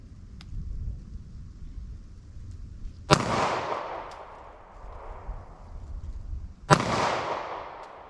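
Two loud gunshots from a short-barrel .40 S&W handgun fired at a steel target about 40 yards away, spaced a few seconds apart, each a sharp crack followed by a long booming echo that fades out over outdoor background noise.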